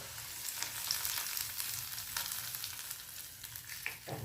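Hot tempering oil poured over a cucumber salad, a soft, steady sizzle and crackle fairly quiet and close, with a few light clicks of stirring.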